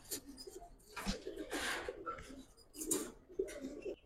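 Giribaz and coloured pigeons coo in soft, repeated low calls, a few close and others further back, with some faint background voices and rustling.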